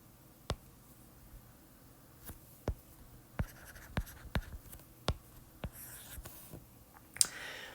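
Marker or chalk strokes tap and scrape across a board as a word is written, a dozen short, sharp, close taps in an irregular rhythm over quiet room tone.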